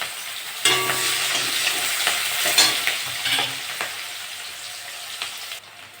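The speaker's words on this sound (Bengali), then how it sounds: "পেঁয়াজটা ভাজা ভাজা হয়ে গেছে" Onion and green chilli frying in oil in a pan after fish has been lifted out, a steady close sizzle broken by scraping stirs of a spatula, with no talk.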